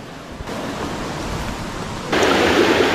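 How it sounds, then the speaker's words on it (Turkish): Nusretiye waterfall in Gölcük, Kocaeli, roars as a loud, continuous broadband rush of falling water that grows louder partway through, with no voices. "Nusretiye Şelalesi doğanın çekilmiş bir aksiyon sahnesi gibi."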